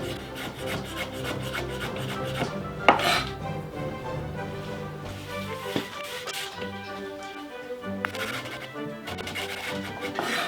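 A kitchen knife slicing mushrooms on a board gives soft rasping cuts with a few sharper taps, heard under steady background music.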